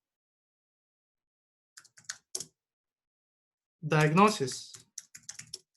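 Short bursts of computer keyboard typing come in quick clusters of key clicks, close and fairly quiet, broken by a brief spoken word and silent gaps.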